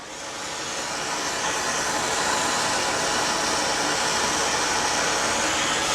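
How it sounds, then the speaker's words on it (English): A hot-air tool blows a steady, loud, hissing roar while warming the aluminum wheel hub of a 1987 Porsche 944 for a bearing race swap, ramping up over the first second and then holding constant. "I'm gonna warm up my hub just a little bit."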